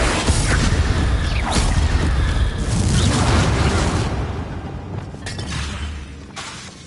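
Confringo fire spells go off in the video game Hogwarts Legacy, a run of booming blasts and crashing impacts with whooshing bursts, loud and close, easing into quieter pops toward the end.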